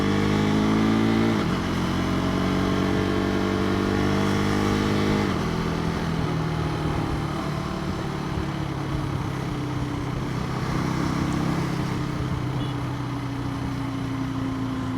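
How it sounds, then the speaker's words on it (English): A 2025 KTM 390 Adventure carrying a pillion runs on the road near 5000 RPM, slightly rough. Its buzzing engine pitch shifts up and down with throttle changes, close and steady, with no talk. "Slightly rough the engine right now, slightly rough, at this around the near 5000 RPM mark."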